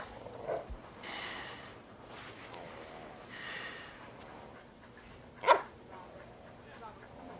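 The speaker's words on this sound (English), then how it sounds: "That dog almost bit me." A dog gives short muffled barks and snorts with a whimper, near but fairly quiet, with one sharper yelp-like burst, amid background movement.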